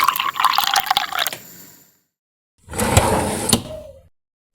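Water poured into a miniature cooking pot while preparing a tiny seafood dish, two close splashy pours separated by a short pause, the second ending in faint drips.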